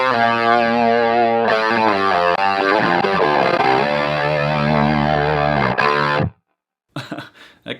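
Heavily distorted electric guitar through a Neural DSP plugin preset, playing sustained chords and a busy riff loudly for about six seconds, then cutting out before a few short, quieter stabs.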